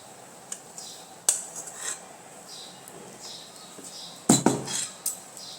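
Sev noodles set into a ghee-greased steel dish, faint scattered clinks and scrapes of metal followed by one louder clatter near the end, quiet and without speech.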